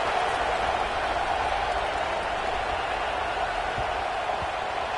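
Dense, steady stadium crowd roar in NCAA College Football 25, a broad continuous wash of cheering and applause-like noise with no distinct individual voices.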